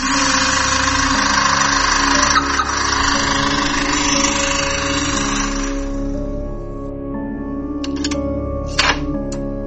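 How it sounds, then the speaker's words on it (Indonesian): A car engine hums as the vehicle drives into a house yard, a loud, steady idle-like drone with a bright rushing layer that cuts off midway, followed by a couple of brief knocks. "saat mendengar suara mobil suaminya memasuki halaman rumah"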